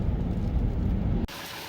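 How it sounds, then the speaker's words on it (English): Light rain falls on a patio at a house in the Philippines, a dense steady hiss that cuts abruptly to a thinner, quieter patter partway through. "you can see that it's starting to rain"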